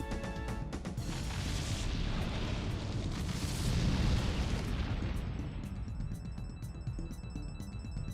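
A Zap Cannon attack in the Pokémon Colosseum video game, heard as a sustained rumbling electric blast with crackling bursts. It swells toward the middle, then thins into sharp ringing zaps at the end.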